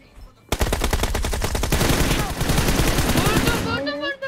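PUBG Mobile in-game gunfire, a long rapid automatic burst of close, loud shots that runs for about three seconds and then cuts off.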